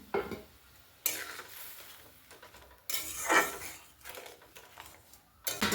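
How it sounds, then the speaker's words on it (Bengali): A mustard-paste fish curry bubbles in a pan, giving a close sizzling hiss with bursts of stirring and utensils scraping against the pan, and no talking. "ফুটবে একটু, মশলাটা ফুটছে।"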